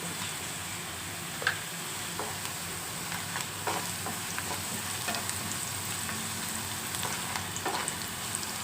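Radish greens sizzle steadily in a hot pan with salt added, a continuous even frying hiss with occasional soft stirring clicks and pops, close and moderately loud with no talking.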